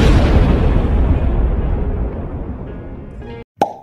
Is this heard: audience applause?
no